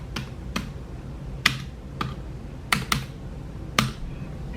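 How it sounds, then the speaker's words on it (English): Typing on a computer keyboard, with a handful of sharp, irregular key clicks spaced across a few seconds, close and fairly quiet with no talking. "we'll just type it in."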